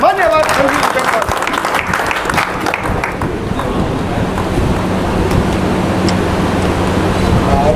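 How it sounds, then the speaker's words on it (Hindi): A crowd at an official public function gives loud, dense applause that runs continuously for several seconds, with the sound staying thick and noisy throughout. "जोरदार तालियों के बीच"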